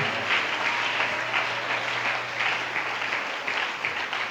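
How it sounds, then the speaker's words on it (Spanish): A church congregation claps strongly during a worship service, a steady, dense wash of applause that holds at even loudness throughout without speech. "Dele fuerte ese aplauso."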